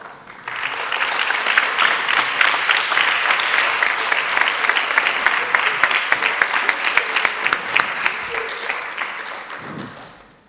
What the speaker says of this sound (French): Veuillez l'applaudir bien fort.